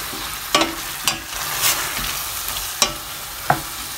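Chicken pieces sizzle steadily in a pan while being browned for a chicken and potato pastry filling. Sharp stirring knocks land every second or so over the close, continuous frying, with no talk.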